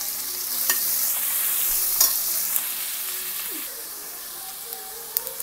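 Four large sliced onions frying in oil for a spicy South Indian mutton curry give a steady, close sizzle with a few sharp stirring clicks, easing slightly quieter toward the end.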